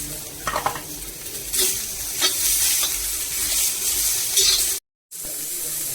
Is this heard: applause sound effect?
no